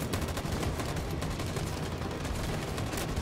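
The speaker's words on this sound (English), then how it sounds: "Covering fire. Fire!" Sustained automatic gunfire from a covering-fire sequence in the video game Detroit: Become Human, loud and continuous bursts filling the whole stretch with no talking.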